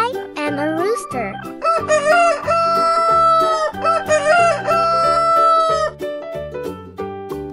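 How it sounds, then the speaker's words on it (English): A rooster crows loudly in a children's farm-animal piece, its long rising calls standing out over bright musical accompaniment and tinkling tones. "Hello, I am a rooster."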